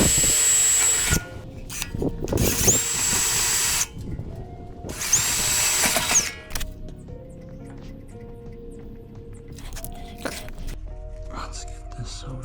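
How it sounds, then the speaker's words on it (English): Power drill boring a hole at an angle while refreshing the suspension on a BMW E39 M5: three loud, high whining drill bursts of a second or two each, then quieter clanks and shop noise with a person speaking. "I have to drill it at an angle."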